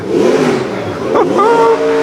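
A Ferrari F40 LM's 3-litre V8 engine revs loudly up close, the pitch rising and climbing in a short burst, at a classic car show in Como, Italy.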